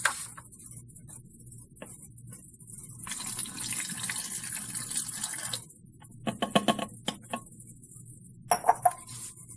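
3% hydrogen peroxide is poured into a container for a chemistry project, giving a steady liquid trickle through the middle of the clip, followed by a few sharp glassy clinks near the end.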